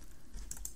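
A few quick computer keyboard key taps, faint and close, in a short burst with no talking.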